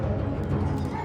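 A police search dog from a canine unit barks and yips close by in a brief, dense burst, loud and continuous, with no talk over it.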